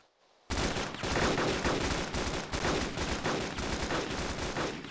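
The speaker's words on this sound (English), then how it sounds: "We're going to blow your UAZ up." Video game gunfire aimed at a UAZ vehicle: after a brief quiet moment, a loud sustained volley of rapid overlapping shots erupts and continues without letup.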